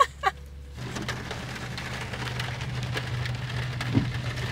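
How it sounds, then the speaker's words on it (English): Steady rain falls outdoors, a continuous soft hiss and patter with a low hum beneath it, near and moderately quiet, with a brief chirp at the start and a small knock near the end. "And it's raining."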